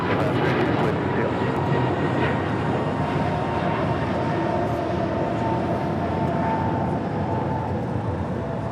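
An American Airlines Airbus A321neo departing LAX gives off a steady, broad jet rumble at moderate distance, holding evenly throughout with no clear rise or fade.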